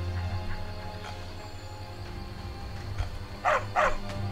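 A dog in Skyrim gives two short, sharp barks near the end over a low ambient game hum.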